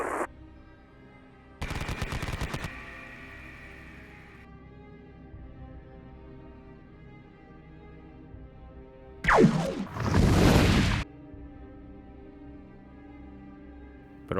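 Machine gun fire effect played during a Konflikt '47 tabletop wargame, two loud bursts: a short rattling volley early on, then a longer, louder burst of rapid gunfire near the end, with quiet background between.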